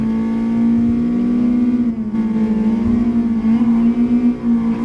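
Car engine in the racing video game Gran Turismo Sport, played in VR with a wheel: a loud, steady engine drone holds a constant pitch, rising slightly in intensity, with no talk over it.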